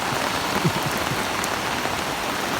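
Steady rain falling during a flood, a dense, even hiss of drops on surfaces that stays constant throughout, with no voices.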